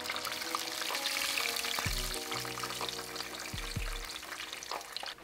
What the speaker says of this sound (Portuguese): Agora é só fritar seu tonkatsu até ele ficar bem douradinho.